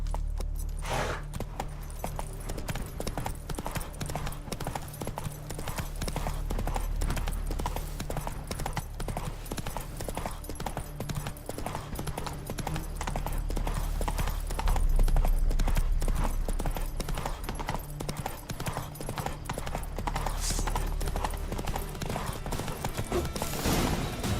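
Roach the horse gallops in The Witcher 3, with rhythmic hoofbeats clopping steadily and close throughout, the pace holding even from start to finish.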